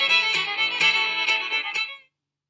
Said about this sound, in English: If you drag it in, it will fade your music.